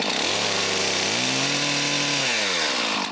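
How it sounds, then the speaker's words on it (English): A new, heavy chainsaw cuts branches from a broken tree at a lakeside cottage, its engine roaring loud and close, pitch dipping and rising as the blade bites. "my new chainsaw is not built to cut branches"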